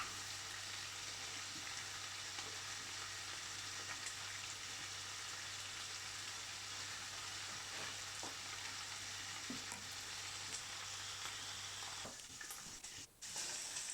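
Lardons frying in a pan for carbonara, a constant faint crackling sizzle like light rain, steady for most of the stretch, then a brief clatter of stirring near the end.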